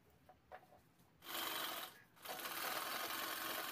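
A sewing machine stitches the folded fabric of a handmade shopping bag, running in two loud sustained bursts separated by a brief pause, close up with no talking.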